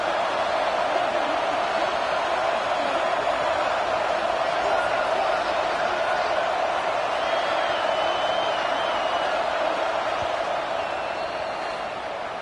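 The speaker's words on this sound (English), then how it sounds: "And the crowd really making some noise now, trying to help out this defense" A steady, dense roar of a stadium crowd in the football video game NCAA 26, broad and sustained, with faint commentary-like talk and occasional whistles riding above.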